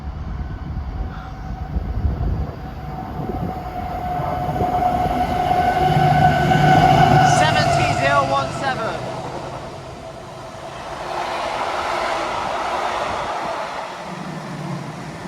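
A heavy freight train rumbles past nearby, rising to a roaring, clattering peak with a high tonal whine, then fading as wheels keep grinding.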